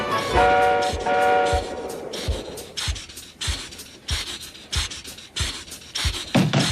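A train runs along the tracks, opening with a horn blast followed by steady rhythmic clacking of wheels over rail joints.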